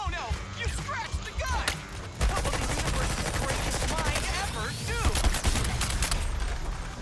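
Rapid bursts of gunfire from a boss fight against the Flash in a video game, dense and continuous across most of the stretch, with a player's voice talking over the shooting.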